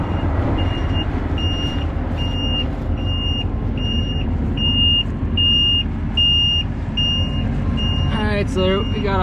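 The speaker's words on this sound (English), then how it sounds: "What the heck is beeping over there?" A forage chopper's metal alert beeps in a steady, regular series of high electronic tones over a constant engine drone, with a voice briefly heard near the end.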